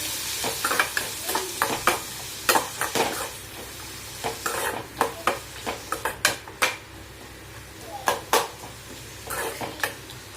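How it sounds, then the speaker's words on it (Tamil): Drumstick leaves and onions stirred in a hot pan, with salt and turmeric, for a South Indian murungai keerai poriyal: a steady background sizzle broken by repeated scraping, clinking stirs of a utensil against the pan, close and fairly loud, without talk. "போட்டு நல்லா வெங்காயத்தை வதக்கி விடுங்க."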